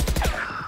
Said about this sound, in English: Here is a monstrosity of a shotgun.